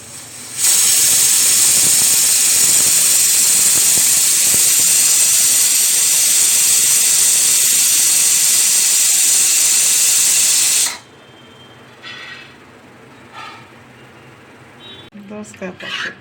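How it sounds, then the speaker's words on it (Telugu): Pressure cooker holding toor dal with yellow cucumber releases a loud, sustained hissing whistle for about ten seconds, then cuts off, leaving quieter kitchen sounds and a voice. "పప్పుకు 4 విజిల్ వచ్చేంత వరకు ఉంచాలి."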